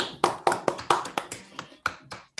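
Scattered hand claps from a small audience picked up through a live, open microphone, about a dozen sharp separate claps in an uneven rhythm, close and fairly loud, with no talking.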